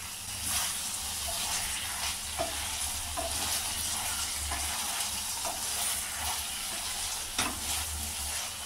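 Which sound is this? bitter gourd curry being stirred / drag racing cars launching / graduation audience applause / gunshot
bitter gourd curry being stirred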